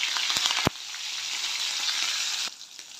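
Chopped green chillies and curry leaves sizzle loudly in hot oil for an aloo bhaji dry potato dish, a steady bright crackle with a couple of sharp pops early on, easing slightly near the end.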